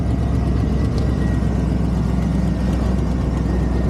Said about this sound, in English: So just want to start this truck.